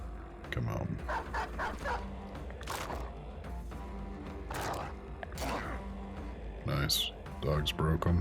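War dogs bark, yip and whimper in combat in the video game Battle Brothers. Repeated short barks come in bursts with game battle noise, and someone talks over them throughout.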